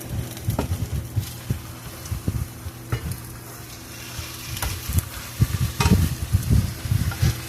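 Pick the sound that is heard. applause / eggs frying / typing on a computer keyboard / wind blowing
eggs frying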